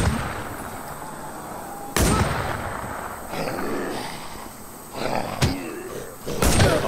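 Sharp gunshots ring out in the zombie survival video game The War Z, three loud cracks spaced a couple of seconds apart over a busy noisy background.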